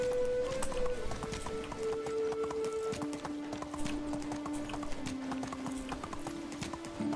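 A horse gallops in the game Medieval Dynasty, its hooves pounding in a rapid, continuous clip-clop over a steady ambient bed, with a faint voice somewhere beneath.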